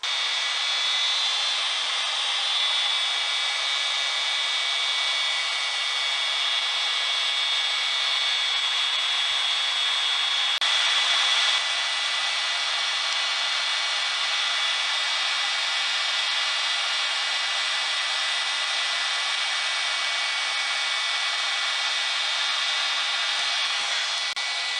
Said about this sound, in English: I'm going to heat it up with a heat gun